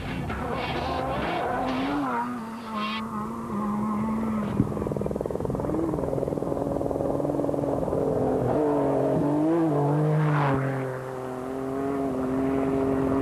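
Rally cars battle across the Paris-Dakar Rally course in 2001, engines roaring loud and steady with shifting, rising revs as they pass close, amid continuous rumbling motor noise and wind.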